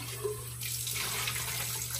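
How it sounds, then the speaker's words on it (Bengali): Water runs and splashes steadily as a pet fish is gently washed by hand without soap, with a constant tap-like flow close by. "ভালো করে কচলায় কচলায় ধুইতেছি।"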